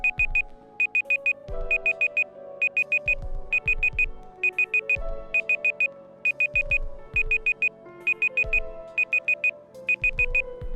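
An electronic alarm beeps in short bursts at a steady rhythm, fairly quiet, over soft background music with a low pulsing beat.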